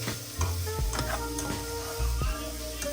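Garlic and basil stalks stirred in a hot pan, a steady close sizzle with repeated scraping strokes of a utensil against the pan at an irregular rhythm, no speech.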